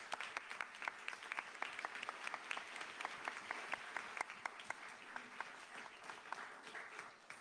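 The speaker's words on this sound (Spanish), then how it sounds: "pedirles un aplauso a nuestra jefa de publicaciones" An audience claps at a book presentation for a gender studies volume, a moderate round of applause with individual sharp claps standing out, steady for several seconds and somewhat distant.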